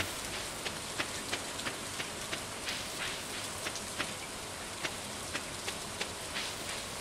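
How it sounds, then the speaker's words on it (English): Steady rain from the video game Stardew Valley, a dense continuous hiss of falling drops with faint ticking patters throughout, heard alone with no talk. "Because I've seen it raining before, I've never heard it rain."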